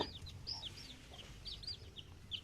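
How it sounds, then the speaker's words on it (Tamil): Chickens on a farm clucking and calling in short bursts, several high chirpy clucks scattered throughout at moderate distance over a quiet outdoor background, with no speech. "சரி வாங்க இப்போ அடுத்த கோழி பார்க்கலாம்"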